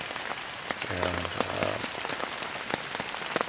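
Light rain falls steadily at an outdoor campsite, pattering on surfaces in a continuous soft hiss with scattered louder drops and no speech.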